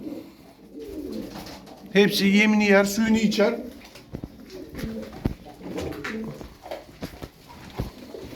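Tumbler pigeons cooing in a loft, a short run of soft throaty coos close by, mixed with someone talking over them and light fluttering and shuffling.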